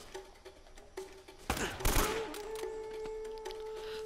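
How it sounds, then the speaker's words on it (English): Distant gunshots in Uncharted: Drake's Fortune, a few scattered cracks and then a louder cluster of shots, over a quiet game background with a steady tone. "Who's shooting at me?"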